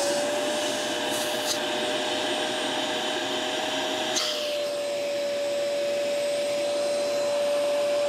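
A Hoover MAXLife bagless upright vacuum cleaner, model UH75100, runs continuously with a steady high whine and airy rush, loud and close, with a slight shift in tone partway through as the suction changes.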